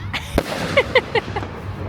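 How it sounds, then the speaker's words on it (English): Fireworks bursting outdoors: a sharp nearby pop followed by a quick run of four or five crackling bangs, each with a brief ringing tail, fairly close and moderately loud. "Ollie, what do you think of the fireworks?"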